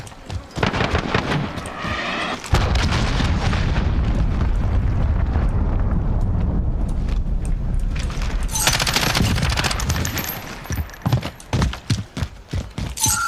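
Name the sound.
cruise missile explosions in video game Call of Duty Modern Warfare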